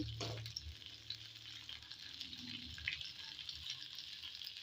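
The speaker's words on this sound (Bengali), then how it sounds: "আমার ভাজাটা প্রায় হয়ে গেছে" A large rohu fish fries in a pan with a faint, steady sizzle close by. A low knock sounds near the start, and no one speaks.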